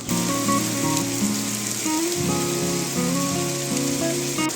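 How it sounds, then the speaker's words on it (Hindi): Heavy rain falls on a hill village in Uttarakhand, a dense steady hiss and patter that holds loud and constant throughout, with a faint tonal hum running underneath. "फाइनली बारिश यहाँ भी पहुँच चुकी है, और बड़ी ही ज़ोरदार हो रही है।"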